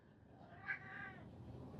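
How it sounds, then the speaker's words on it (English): A single faint cat meow rises briefly and drawn out, quiet against a low background hum, with no one talking. "the cat."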